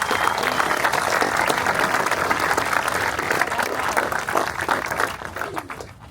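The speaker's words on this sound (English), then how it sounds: "those individuals should get a big round of applause for serving our nation" A crowd at a New Jersey street sign dedication press conference applauds service members, loud and sustained dense clapping that holds steady before thinning and fading in the final second.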